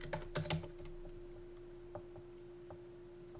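Someone types on a computer keyboard, with a quick cluster of close keystrokes at the start followed by sparse, faint single taps over a low steady hum, no voices present.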